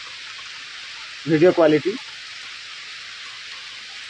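Rain falls steadily around a hut under construction, a soft continuous hiss that lasts throughout, with a brief spoken phrase rising over it in the middle.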